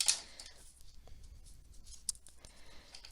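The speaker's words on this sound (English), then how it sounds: "So I could take a little tiny snip with a pair of scissors" A pair of scissors takes a small snip into a cardboard paper roll: one quiet, crisp cut after a soft rustle of handling, in an otherwise hushed room.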